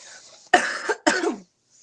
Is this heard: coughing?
yes